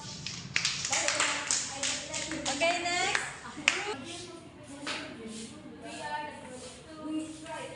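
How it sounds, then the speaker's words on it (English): A class of schoolchildren claps together in a short burst of sharp, evenly spaced claps, close and fairly loud, with a teacher and children talking around it. "Okay, give them 5 claps."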